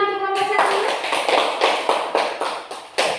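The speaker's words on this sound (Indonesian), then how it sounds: "tepuk tangan untuk kelompok" Classroom applause for a student group during a Catholic religious education peer-teaching session, with a short tone at the start, then a burst of regular claps from several students close by.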